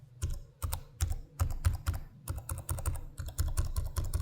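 Typing on the keyboard of a 14-inch gaming laptop, a Razer Blade 14 or ASUS Zephyrus G14, with longer key travel and a satisfying click: rapid, uneven clusters of close, crisp keystrokes running steadily throughout.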